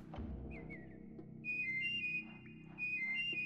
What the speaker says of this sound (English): Playing the whistling game. It's like Simon Says.